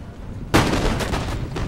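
Musket gunfire and artillery in an Empire: Total War battle: a sudden loud shot bursts out, followed by a rolling crackle of further volleys close by.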